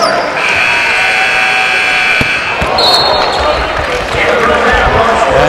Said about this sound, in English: as the buzzer sounds